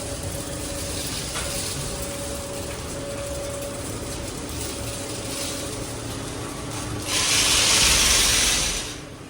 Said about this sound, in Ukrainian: Ростер смажиться, крутиться.